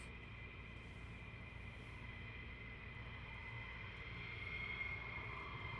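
F-15 fighter jets taxiing at RAF Lakenheath, a steady distant engine whine and low rumble held at an even level throughout, slightly swelling near the end with no talking.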